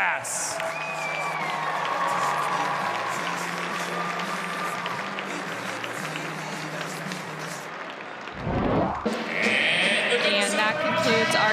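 Sustained audience applause and cheering for the Gopher Gymnastics senior class at a Minnesota NCAA gymnastics meet in Maturi Pavilion, steady crowd clapping throughout with a brief dip near the end before rising again.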